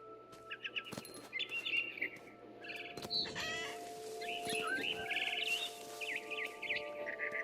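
A frightened bird in the game What Remains of Edith Finch chirps and clucks in rapid bursts over quiet game music and ambience, close and clear.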